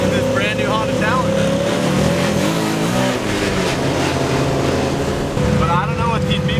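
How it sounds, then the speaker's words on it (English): A brand new Honda Talon 1000R UTV cruises the Las Vegas Strip, its engine droning and revving loudly under a speaking voice, with brief pitch sweeps from nearby traffic. "we just got onto the Vegas Strip and we're cruising it in this brand new Honda Talon"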